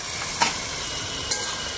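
Fried vegetables hit a pan of hot spice masala with a continuous loud sizzle, and two brief scraping stirs cut through the frying hiss.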